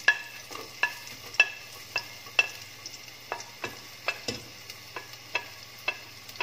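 Green chillies and onions frying in a pan for spaghetti aglio e olio, a soft sizzle underneath regular scrapes of a spatula stirring, roughly a dozen strokes in even rhythm.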